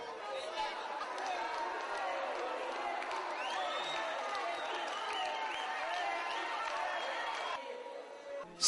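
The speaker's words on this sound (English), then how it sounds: "And when they get blankets, there is a big cheer." A crowd of children and adults at a blanket giveaway in Africa erupts in lively cheering and excited chatter, a dense mass of overlapping voices with shouts rising above it.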